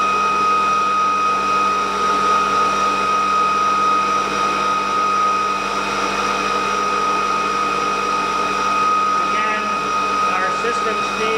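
An ebike motor runs on a test rig in regenerative acceleration mode, giving a loud, steady electric whine with constant tones and an even hum throughout, and a brief chirping near the end.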